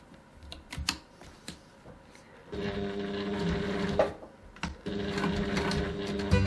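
A sewing machine stitches the corner seams of a fabric bag, running in two steady buzzing bursts of a few seconds each, preceded and separated by clicks and handling sounds, close and clear.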